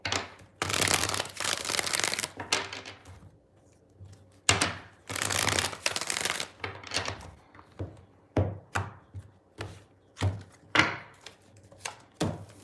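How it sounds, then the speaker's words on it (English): Tarot cards are shuffled up close in two brisk riffling bursts, followed by a string of separate soft taps and slaps as the deck is squared and cut. "Two more shuffles."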